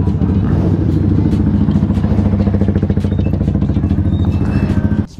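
A Kawasaki Ninja SL bored up to 280 with an aftermarket exhaust rumbles loud and close at night, its engine a steady throbbing drone with rhythmic pulses throughout, cutting off abruptly at the end, with a voice talking over it.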